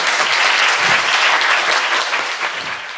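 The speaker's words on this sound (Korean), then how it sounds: "박수 부탁드립니다." A studio audience breaks into loud, sustained applause, a dense wash of clapping that holds steady and fades slightly near the end.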